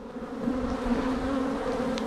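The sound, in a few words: angry honey bees buzzing around beekeeper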